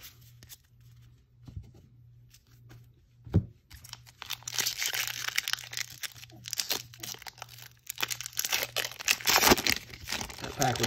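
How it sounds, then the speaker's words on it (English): A Magic: The Gathering booster pack is torn open, close crinkling and ripping of foil wrapper in irregular bursts, growing louder and busier toward the end as cards are handled. "That pack was a little difficult to open."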